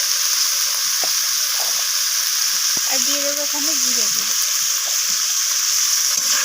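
Cauliflower frying in hot oil with turmeric, chilli and cumin powder, a constant loud sizzle and hiss with occasional stirring clinks, while someone talks briefly partway through.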